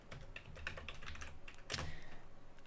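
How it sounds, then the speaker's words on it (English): Close, quick keystrokes on a computer keyboard as a terminal command is typed on Ubuntu, a steady run of clicks ending in one firmer key press, heard alone. "you want to type in sudo update"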